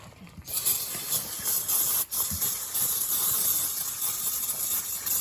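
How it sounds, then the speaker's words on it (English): Brake parts cleaner sprays in a steady, loud hissing stream from an aerosol can onto Bobcat MT52 lift arm cylinder parts in the field, with one brief pause midway and no talking. "you're just using like brake parts cleaner"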